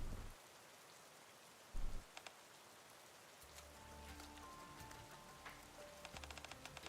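Rain falling in the video game Goddess of Victory: Nikke, a steady quiet hiss of drops with a couple of brief low thumps and faint tonal game sounds later.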